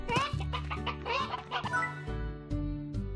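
Chickens in the video game Slime Rancher give repeated clucks and short squawks in quick succession over a steady game music background.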